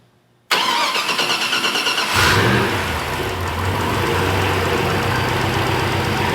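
An off-road 6x6 truck engine cranks and fires up after a brief silence. It rises into a loud, close rev and then settles into a rumbling idle.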